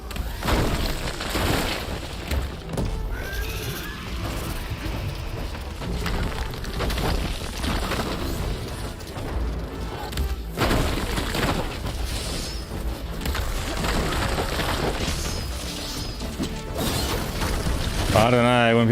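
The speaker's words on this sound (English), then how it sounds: "Let's use some explosions." Repeated booming blasts and crashing debris from Horizon Forbidden West combat, a dense series of loud explosions and mechanical clatter over a busy game soundtrack, with a player's voice talking at times.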